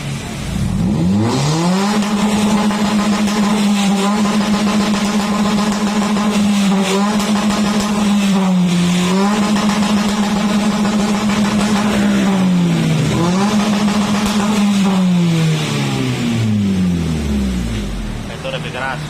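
Toyota Calya engine fitted with a racing exhaust revs loudly and steadily for most of the clip, with a few dips and surges in pitch, the exhaust drone staying close and dominant throughout.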